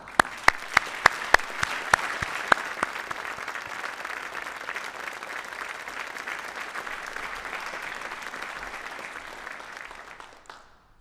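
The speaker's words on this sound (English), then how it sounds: "So let's give them a round of applause." Audience at a Medal of Honor Hall of Heroes induction ceremony applauding, a few sharp nearby claps at first, then a sustained even round of clapping that fades out near the end.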